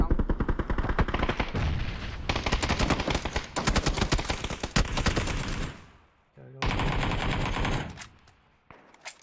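Dense rapid gunfire in a shooter game as an enemy fires from a hill, loud rattling bursts nearly continuous with brief pauses, a voice speaking faintly underneath.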